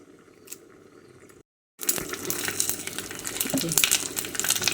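Young neem leaves dropped into hot mustard oil, a brief quiet pause and then a loud, dense crackling sizzle that keeps going steadily, close up.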